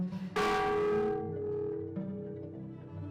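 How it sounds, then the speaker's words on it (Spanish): The old cathedral bell of San Pedro, brought to the cathedral in colonial times, is struck once, giving a loud rich clang followed by a long ringing decay, with no talking. "si yo hago sonar esta campana"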